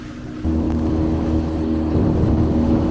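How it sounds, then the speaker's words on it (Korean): A rented motorboat cruising on a river in Berlin, its engine starting abruptly and then holding a steady, loud drone with low rumble and water rush throughout, no talk. "돌아가는 길에는 장인어른 장모님께서 번갈아서 보트를 몰아주셨어요"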